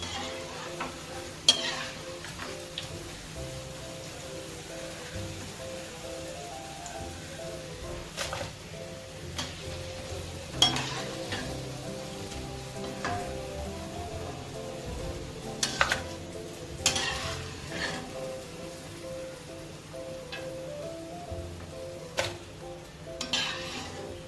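Cabbage and onion pakodi fry in a pan of Nityam oil, a steady close sizzle with intermittent stirring scrapes and light clinks of utensils against the pan, and no talking.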